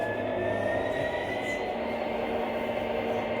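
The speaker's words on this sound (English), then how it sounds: "the train will go at that speed" An MTH model train runs along its track with a steady, even mechanical whir and faint rail hum, moderately close, with no talking.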